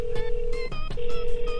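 A telephone number is punched in as a sequence of crisp dialing tones, a long held beep broken by short key presses, loud and near, with no speech over it.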